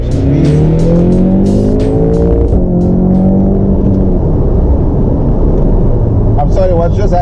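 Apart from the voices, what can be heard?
Audi S3 sleeper car accelerating hard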